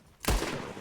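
A single gunshot from a firearm in Red Dead Redemption 2, fired during bird hunting, with a sharp broadband crack followed by a lingering rumbling tail, close and loud.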